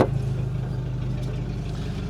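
A repaired car engine, once sold as inoperable, runs at a steady idle, a low, even mechanical hum held close and moderately loud with no talking.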